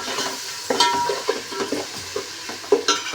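A spoon stirs an aloo pulao mixture of potato and rice in a hot pan, making close scraping and clinking strokes over a soft sizzle, with no talk.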